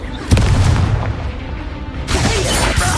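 Fiery Confringo spell blast from the Hogwarts Legacy video game, a loud booming burst with a sharp onset followed by rumbling decay, then a second surge of broadband crackle near the end; no talking.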